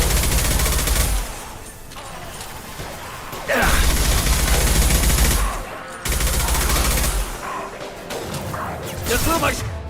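Gunfire in the video game Mass Effect 2: loud, dense bursts of automatic weapon fire and impacts that cut in and out in several volleys, with voices faintly mixed in.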